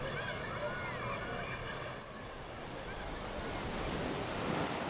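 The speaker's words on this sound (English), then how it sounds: "Very few guys Clint's age can get in the Pacific Ocean a half mile out and hoof it" Pacific Ocean waves and surf rolling in a steady broadband roar, with wind buffeting the microphone and a brief dip in level midway.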